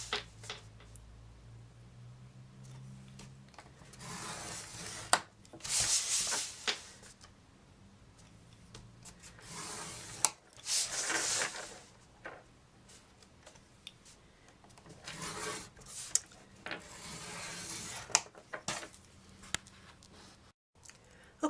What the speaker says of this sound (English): we're going to score again at 1 inch